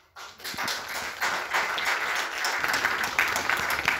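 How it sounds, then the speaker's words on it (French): A seated audience bursts into sustained applause, a dense, even wash of many hands clapping together that swells quickly and holds at a steady level. "Donc nous allons t'applaudir."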